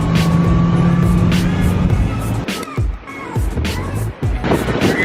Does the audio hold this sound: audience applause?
no